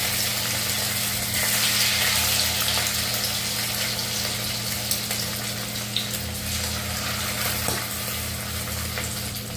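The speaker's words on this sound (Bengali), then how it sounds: "তো এইভাবে পকোড়ার আকারে চিকেনগুলো ভেজে নিচ্ছি" Marinated chicken fries pakora-style in hot oil with a steady, close sizzle and bubbling. A low hum runs underneath, and faint clicks and taps break in now and then.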